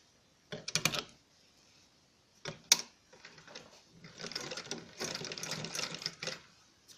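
A sewing machine stitches an apple cut kurti in short bursts of rapid mechanical clatter, close and fairly quiet, with a longer steady run toward the end.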